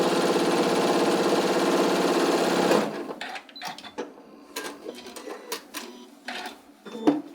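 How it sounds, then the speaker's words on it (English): A sewing machine runs steadily at speed for a few seconds while it stitches a zigzag edge, then stops. Fabric handling and scattered clicks follow. "I would just do a zigzag stitch right here"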